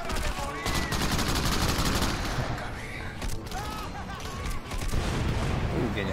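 Rapid bursts of gunfire from the Crackdown video game crackle almost without pause throughout, loud and dense, with some game voices mixed in underneath.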